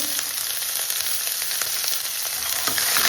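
Chopped onions frying and browning in a pan for a tempering for moong-masoor dal, a loud, continuous close-up sizzle with faint intermittent ticks of stirring and no talking.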